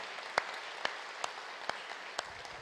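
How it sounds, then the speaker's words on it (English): A church congregation at a harvest festival service applauds the readers, a faint, steady patter of many hands clapping with a few louder individual claps standing out at regular intervals. "Shall we give all the people who've done some readings this morning a really big clap"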